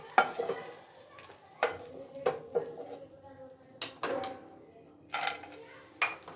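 Raisins and other ingredients fry in a pan for rice kheer, with a low sizzle under repeated sharp spoon scrapes and clinks against the metal pan, about a dozen strikes spaced unevenly.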